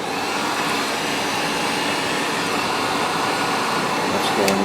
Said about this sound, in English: Heat gun.